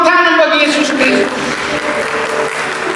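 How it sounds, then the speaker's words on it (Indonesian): An Indonesian church congregation claps during a sermon, with steady, fairly loud applause that carries on after the preacher's voice fades at the start. "Berikan tepuk tangan bagi Yesus Kristus."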